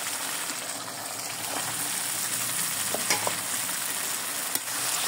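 Pangas fish and potatoes fry in a pan, giving a loud, steady sizzle with occasional stirring clinks and crackles, close and continuous, with no talking.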